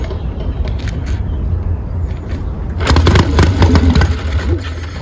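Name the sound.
Triumph Bobber motorcycle engine running after new spark plugs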